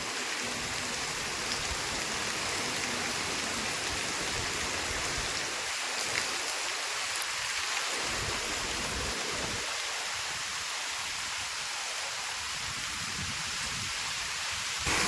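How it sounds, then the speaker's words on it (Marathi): Heavy rain pours steadily, a dense continuous hiss of drops with no voices, unchanging throughout. "पाऊस बघा जोराचा पाऊस"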